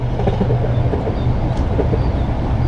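A train passes near a reservoir, a steady low rumble with faint rhythmic rail clatter running throughout, fairly close and continuous, with outdoor ambience and no talk.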